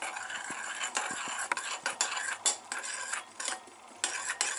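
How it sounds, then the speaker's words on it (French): A spoon stirs an oat bran face mask in a bowl, giving soft scraping swirls and light clinks of metal against the dish, with steady repeated strokes close by. "Et là, on va prendre une cuillère. Ok, hop. Et on va bien mélanger."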